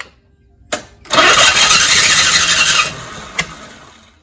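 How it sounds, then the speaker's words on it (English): A 1983 Cadillac Cimarron engine cranks with a sharp pop at the start, then churns harshly for about two seconds and dies. A second sharp backfire crack follows, loud and close. "Why is it backfiring?"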